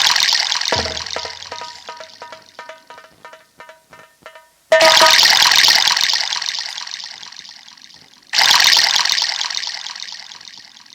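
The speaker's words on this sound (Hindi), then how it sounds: "इनको अपने हाथ से पानी पिलाओ बेटी" Water poured out by hand for a thirsty person to drink during a staged nautanki folk-theatre scene. A thin, splashy trickle runs first, then two loud gushing pours follow close by with no talk.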